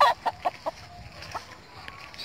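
A rooster and hens cluck in a farmyard, several short close clucks early on, then scattered softer calls over quiet outdoor background.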